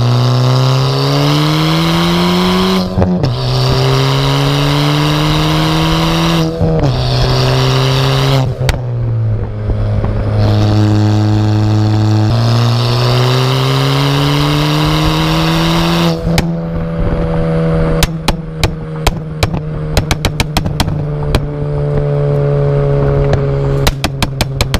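A loud, aggressive Ford Fiesta ST at full throttle, its engine climbing through the revs with sharp pauses at gear changes, then rapid pops and crackles from the exhaust near the end.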